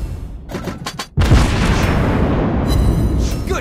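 A shell explodes on an enemy ship in World of Warships Blitz, played from a Tier 10 U.K. light cruiser Minotaur: a few sharp cracks, then a sudden loud, deep boom that rolls on as a sustained rumble.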